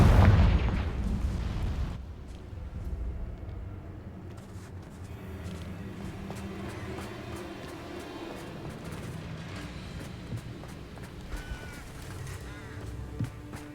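A Confringo blasting spell explodes in Hogwarts Legacy, opening with a loud burst that decays over two seconds, then a busy bed of game effects and music rumbling on steadily beneath.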